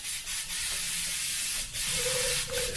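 An airbrush sprays in a steady hissing blast, with brief dips where the spray stops and restarts, close and fairly loud.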